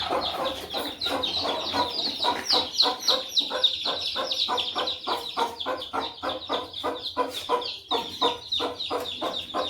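Hens cluck and chatter close by in a rural garden, a dense run of rapid, repeated calls going on without pause, with some turkey-like gobbling mixed in among the flock.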